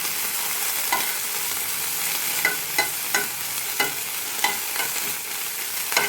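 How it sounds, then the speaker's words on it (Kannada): Washed coriander leaves stir-fried in a pan, with a steady sizzle and regular scraping strokes of a spatula roughly every half second, close and without talk. "ಇದನ್ನು ಸ್ವಲ್ಪ ಫ್ರೈ ಮಾಡೋಣ."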